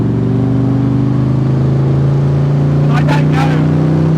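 A 2003 AC Shelby Cobra with a V8 engine drives at speed, a steady loud engine drone with wind rush. A person talks over it.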